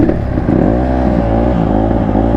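A Honda 150R supermoto motorcycle engine, just started, runs loud and close with rising and falling revs over a steady throaty idle, no talk.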